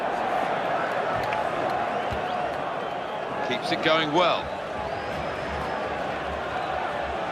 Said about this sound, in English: Well, that got the crowd excited, that attack.